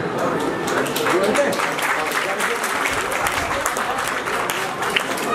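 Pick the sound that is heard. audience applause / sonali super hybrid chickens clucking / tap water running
audience applause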